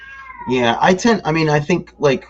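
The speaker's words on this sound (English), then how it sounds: "that's our cat." A house cat meows in a rising, sing-song call near the start, close by indoors, as two people keep talking over it.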